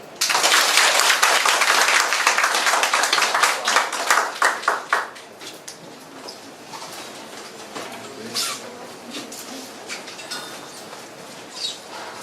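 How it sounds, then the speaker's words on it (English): Audience applause at a leadership forum lecture as the speaker is introduced: dense, loud clapping from a room of people for about five seconds, thinning into scattered claps and then fading into quiet room noise. "Please give a big applause for our speaker today, Professor Dolny."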